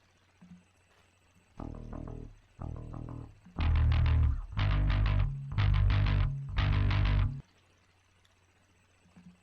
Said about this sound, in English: Then we have the bass.